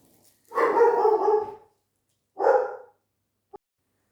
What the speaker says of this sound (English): So that was the dog.